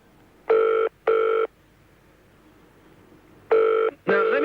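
A telephone rings during a late-night radio broadcast, two pairs of bright electronic rings separated by a pause, the last ring slightly warbled, with faint background hiss.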